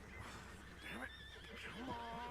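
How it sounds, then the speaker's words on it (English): A horse in Red Dead Redemption 2 whinnies in a rising and falling neigh, followed by a second shorter whinny, with soft hoof clip-clop and ambient game sounds underneath. "Oh, look, that horse is gorgeous."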